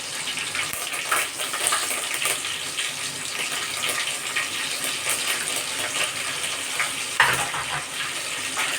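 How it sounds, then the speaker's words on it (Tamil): Onions and curry leaves sizzle in hot oil while being tempered for a chicken gravy, giving a steady, close, crackling hiss with small pops throughout. "தாளிச்சுட்டு வெங்காயம் போட்டுக்கலாம். அப்புறம் கருவேப்பிலை போட்டுக்கலாம்."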